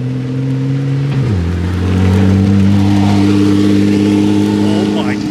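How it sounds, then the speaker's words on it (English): A car engine drones low, then its pitch drops and climbs as it revs, loud and continuous with a steady hum beneath. "they're driving cars around, and they sound nuts"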